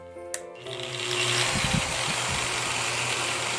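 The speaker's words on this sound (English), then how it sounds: "It spins, and I hold the metal over it, press down, and it pulls all in one direction and buffs it" A surface conditioning machine starts up and spins steadily to buff metal for a Christmas tree ornament, giving a continuous mid-pitched motor whir with a brief click at the start and some rougher grinding as the metal is pressed.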